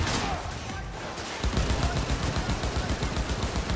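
Sustained automatic gunfire in Cyberpunk 2077, loud and rapid with fast repeating shots that intensify after a brief lull.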